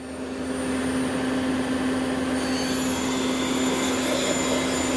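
The spindle of a 2011 Citizen M20V CNC Swiss lathe runs at 2000 rpm, a loud steady whine with a strong tonal hum that rises slightly and then holds constant, with no voices.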